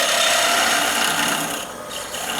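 A skew chisel cuts a spinning wooden spike star ornament on a lathe, giving a continuous close, bright rasping hiss that dips briefly near the end.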